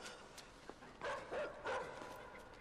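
A dog in the video game Inside barks and yips in a few short bursts at moderate distance, over a quiet low ambient game background.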